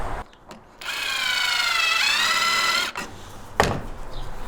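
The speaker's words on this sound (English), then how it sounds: "I'm always disappointed when you don't dance while you're using a jigsaw" A jigsaw cuts through a floor panel in a 4x4 Sprinter van, giving a loud, sustained buzzing whine for about two seconds that bends slightly in pitch, with short clunks before and after.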